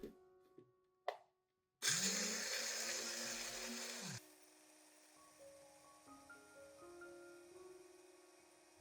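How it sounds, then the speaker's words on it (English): A blender grinds eggshells into a fine powder, a loud steady whir that runs for about two and a half seconds after a few short knocks, then cuts off and leaves a quieter hum. "After putting all the eggshells into a blender, grind them into a very fine powder."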